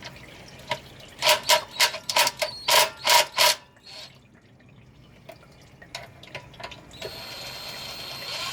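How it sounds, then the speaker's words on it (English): A ratchet loosens transmission pan bolts on a 2013 GMC Sierra 1500, with a quick run of loud, evenly spaced ratcheting clicks, a short pause, then fainter scattered clicks and a hiss toward the end. "start loosening up some more pan bolts here"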